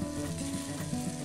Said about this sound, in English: Ooh, sizzle, sizzle.